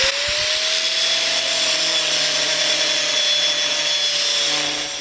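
An abrasive cutting disc on a grinder slicing through metal on a 1956 International cab-over hot rod build, a loud, steady, continuous whine with a slowly sliding pitch, up close and alone without any talking.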